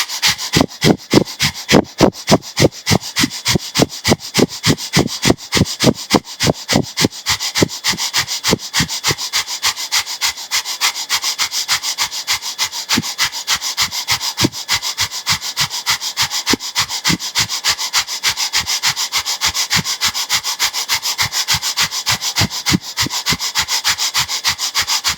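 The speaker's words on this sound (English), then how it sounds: "with the breath of fire" Breath of fire during a Kundalini kriya: rapid, forceful nasal exhalations pump in a steady fast rhythm, close and loud at first, then slightly softer but unbroken throughout, with no speech.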